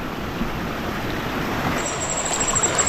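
A Konkan river flows steadily at night, a continuous broad wash of running water at moderate loudness, with a faint high insect-like whine entering near the end.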